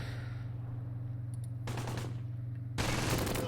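Bursts of MG42 machine-gun fire in the WWII strategy game Close Combat, two dense rattling volleys, the second louder and closer, over a steady low battle hum.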